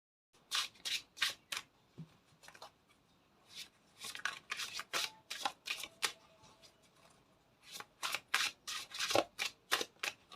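Tarot or oracle cards shuffled for a reading, giving bursts of crisp riffling and flicking in quick clusters with short pauses between, close and fairly quiet, with no talk.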